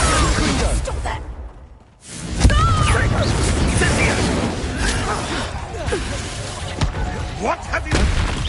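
Confringo and Bombarda spell blasts in Hogwarts Legacy burst in a heavy combat mix, with a brief lull near the two-second mark and then a loud blast, followed by crackling impacts under spoken voices.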